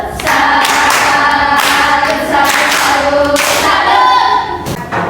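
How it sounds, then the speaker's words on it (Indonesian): A student group in a classroom problem-based learning session performs a loud rhythmic clap cheer, with several voices chanting in time over hard, even beats throughout. "Tepuk salut."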